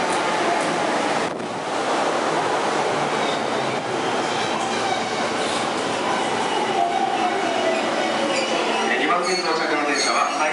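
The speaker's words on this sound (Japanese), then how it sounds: "2番線到着の電車は回送電車です。" An out-of-service test-run train rumbles into platform 2 of Akihabara Station on the Yamanote Line, a broad steady roar of wheels and motion that slowly shifts pitch as it slows, with no clear talk over it.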